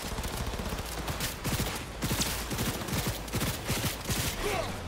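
Rapid automatic gunfire in the video game Cyberpunk, a dense run of close, sharp shots firing in quick repeated bursts, with little pause between volleys.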